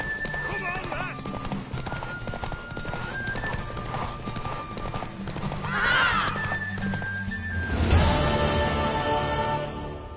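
Galloping horse hooves in The Witcher 3 pound out a loud, driving clip-clop, with a horse whinnying near the middle and voices speaking over the hoofbeats.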